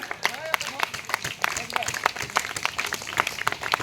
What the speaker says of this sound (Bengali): অভিনন্দন করুন, সবাই হাততালি দেন।